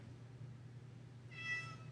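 A cat gives one short, faint meow near the end over a quiet background hum.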